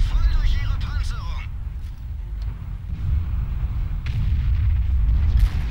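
Tank cannon fire in World of Tanks from a Leopard 1, deep booming blasts with rumbling low-end decay amid engine drone, someone talking over parts of it.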